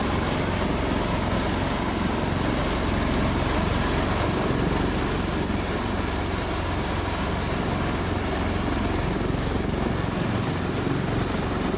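A Caracal HT-7202 military helicopter flies during a relief supply drop, its rotor and engine giving a steady, loud, continuous drone with no break for the whole stretch and no voices.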